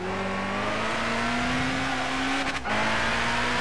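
A race car in Gran Turismo 5 runs at full throttle, its engine holding a steady, loud whine that climbs slightly in pitch, with a brief dip like a gear shift before pulling on.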